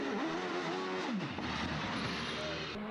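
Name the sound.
race car driving up the Craigantlet hillclimb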